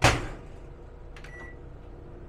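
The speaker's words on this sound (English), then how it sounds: "Now, I'll put the microwave on." A microwave oven switched on and running, a brief click and loud onset followed by a steady low hum with a faint tonal whine, close by and alone.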